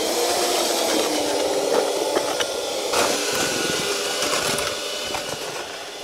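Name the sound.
electric paddle mixer stirring mortar in a tub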